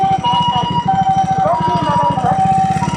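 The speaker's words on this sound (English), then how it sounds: "I don't want to follow the loud ambulance." An ambulance siren wails along a Tokyo street in Kagurazaka, loud and near, its wavering tone riding over a rapid pulsing engine rumble for the whole stretch.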